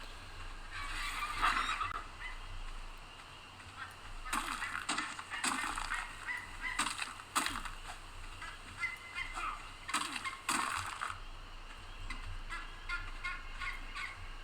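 A bird creature in the survival video game Ark: Survival Evolved on the Valguero map gives repeated gobbling, honking calls over a low steady game ambience, in separate bursts spread across the scene.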